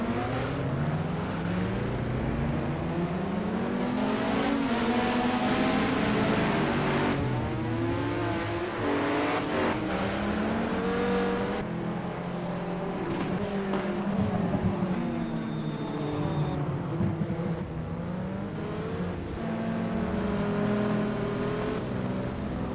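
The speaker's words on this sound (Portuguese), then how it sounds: "Você está aí acompanhando a volta de aquecimento de pneus e motor, né?" Race cars in a sim racing video game GT series event, circling on a warm-up lap for tyres and engines, with steady engine drone and rising and falling revs from several cars throughout, continuous and fairly loud with no talk.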